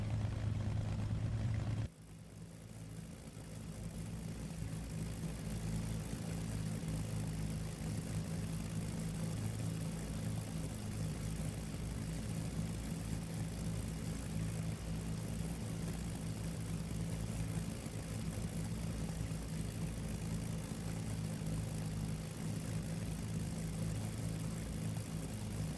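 A P-51 propeller engine idles while warming up in the DCS World flight simulator. After a short change near the start, a steady, heavy, low drone holds evenly throughout with no talking.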